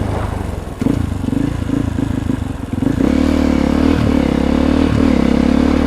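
A supermoto motorcycle rides on a winter road, its engine droning loudly with a steady rumble, briefly clattering before the revs rise and hold at a higher, louder pitch.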